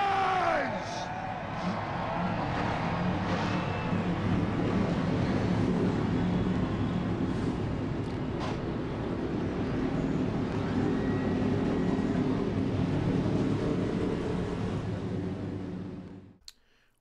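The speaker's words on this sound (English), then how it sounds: "Drivers, start your engines!" Race truck engines fire up together on a windy track at Watkins Glen, a loud, dense rumble that holds steady for about sixteen seconds before cutting off abruptly, with a voice talking over it.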